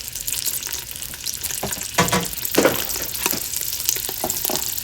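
Sausage links browning in a pan over medium heat, a steady close sizzle and spatter with a few louder pops and stirring scrapes mid-way, no talk.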